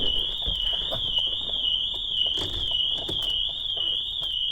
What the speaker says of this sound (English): when I come to open the door, it's now triggered the alarm system off